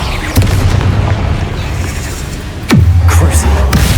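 Two heavy booming blasts from the Bombarda spell in Hogwarts Legacy, each a sharp crack that rolls into a deep sustained rumble, loud and close.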